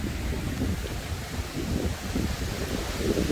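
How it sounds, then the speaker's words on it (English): Strong hurricane winds buffet and roar steadily, with gusty rumbling bursts and rustling trees, no voices. "it's getting really, really windy out here."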